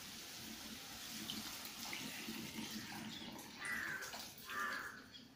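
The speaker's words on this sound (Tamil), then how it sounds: "புளி கரைச்சல் எடுத்து விட்டுக்கணும்." Tamarind water pouring steadily into a pot for murungakai puli kuzhambu, a continuous watery splash with a few brief gurgling rises near the end. Nobody speaks.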